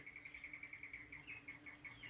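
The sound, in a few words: carpenter bees swarming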